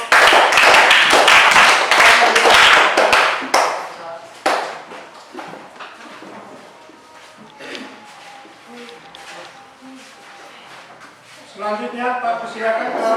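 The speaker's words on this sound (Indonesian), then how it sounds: "kita tepuk tangan dulu untuk kelompok." A classroom group of students and their teacher applauding a presenting group: a dense burst of clapping for a few seconds that quickly dies away, followed by quiet room noise and talking.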